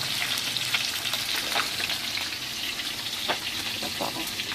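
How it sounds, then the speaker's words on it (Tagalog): Tuyo, salted dried fish, frying in a pan with a steady dense sizzle and crackle throughout, a few sharper spits and pops standing out, close and continuous with no talking. "Tapos may tuyo pa pala tayong i-prito"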